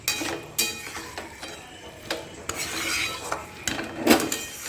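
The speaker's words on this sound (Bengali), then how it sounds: "চলো মশলার মধ্যে ভালো করে মিশিয়ে দিই মাশরুমটা মধ্যে" Mushrooms are stirred into spice masala in a pan, with repeated close scrapes and clinks of a utensil against the metal pan and a soft sizzle beneath.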